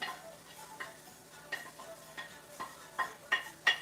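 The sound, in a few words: peppers frying in a pot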